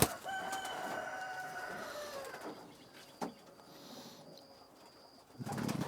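Racing pigeons in a loft: a rooster-like crow rings out clearly at the start, followed by softer cooing and rustling, with a sharp tap near the middle and a brief burst of noise at the end.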